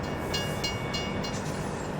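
A train rolling along the tracks in Farming Simulator 17, a steady rumble with light rhythmic clacks, continuous and fairly close.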